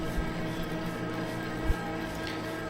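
Electric motor of a Blaupunkt 350-watt travel e-bike whines steadily while climbing a hill at about 12 to 14 mph, a continuous tonal hum over wind and road rumble with one brief thump.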